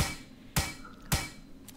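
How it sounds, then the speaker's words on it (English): Crafting hammers in the video game Plains of Pain produces two sharp, solid game-effect hits about half a second apart, followed by a fainter third tap, over quiet background. "Just let me craft a few hammers."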